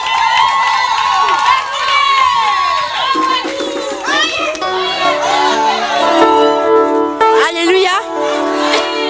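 A church congregation cheers and shouts in acclaim of Jesus, a loud, dense wash of many voices with rising whoops and cries that runs on without a break.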